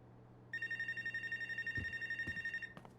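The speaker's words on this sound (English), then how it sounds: "Another phone call." A phone rings in the video game Life is Strange: Wavelengths, a bright electronic trill in rapid pulses lasting about two seconds, close and clear, with a few short clicks and bumps after it and no speech.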